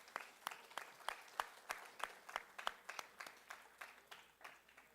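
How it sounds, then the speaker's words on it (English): A small audience at an academic dialogue event applauds visiting colleagues from Mexico, giving a brief round of distinct, fairly sparse claps in an even rhythm, heard faintly and without talk. "maybe a round of applause from them"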